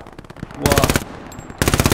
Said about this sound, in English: That's a 300 plus meter shot, headshot.